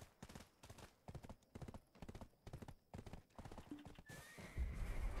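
A unicorn mount in the Black Desert video game gallops in a quick, steady rhythm of hoofbeats, followed by a neigh and a burst of louder noise at the end.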